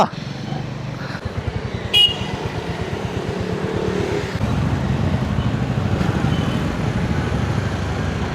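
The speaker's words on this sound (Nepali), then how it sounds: "ड्याडीले चाहिँ अब लिएर जाँदैछ बाइक चाहिँ है" A Royal Enfield Classic 350 motorcycle engine idles, then revs and pulls away, its steady rumble rising under light background noise.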